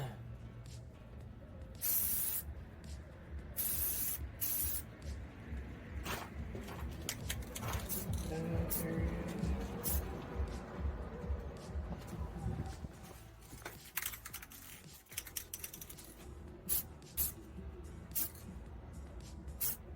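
Bursts of aerosol spray painting a light coat onto a Suzuki Samurai part near a warm radiator, short hissing sprays then a longer sustained hiss, close by, with someone talking in between.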